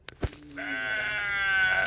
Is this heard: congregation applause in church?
no